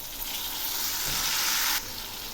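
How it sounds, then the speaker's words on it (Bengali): Tomatoes and potatoes frying together in a pan for Bengali jackfruit kofta, a close, even sizzle that swells briefly and then drops back to a softer hiss. "এই টমেটোগুলো আলুর সঙ্গে ভালো করে ভেজে নেব।"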